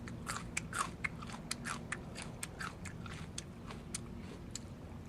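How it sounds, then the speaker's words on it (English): Fleshy weed stem chewed up close in a garden, a steady run of wet crunching bites and crackles, loud and alone with no talk. "chew it up, and then spit out the pulp."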